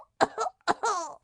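A narrator acts out a fit of coughing from a smoke-filled room: two separate rough, rasping bursts, each with a quick double hack, close and fairly loud, with no other sounds.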